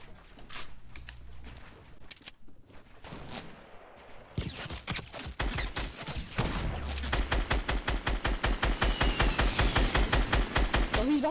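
Video game gunfire in a squad battle: scattered single shots at first, then a loud, rapid, sustained automatic burst of evenly spaced shots that fills the second half.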